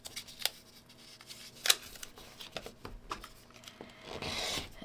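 Quilt fabric pieces being trimmed for a Dear Jane block, giving soft close scissor snips and fabric rustling with a sharper cut near the middle, quiet and without talk.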